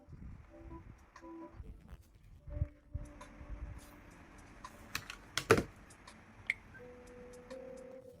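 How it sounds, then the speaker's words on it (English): Light clicking of a computer keyboard being typed on, with irregular soft taps and a few sharper key strikes over faint background hum. "typing on the keyboard is uncomfortable, it hurts my hands"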